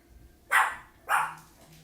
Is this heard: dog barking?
yes